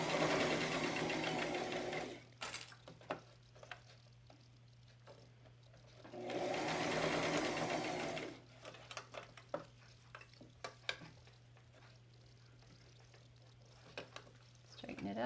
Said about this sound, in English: This is my Brother machine